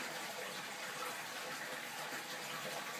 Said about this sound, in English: As you can see, it takes longer to add water than it does to drain it.